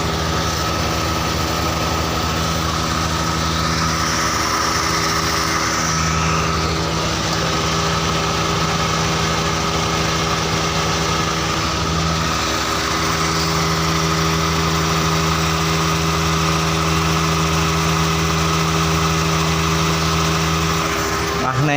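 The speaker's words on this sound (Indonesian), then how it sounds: "Magnetic clutch bisa berputar" A running car engine with the air-conditioning compressor's magnetic clutch engaged and spinning gives a steady, loud mechanical drone with constant tonal hum that continues unchanged throughout, no voices heard.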